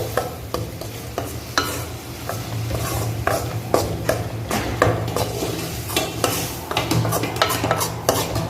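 Gram flour being stirred and sautéed in ghee for a sweet, with a spoon scraping and tapping the pan in an irregular rhythm over a soft steady sizzle, close up and without talk.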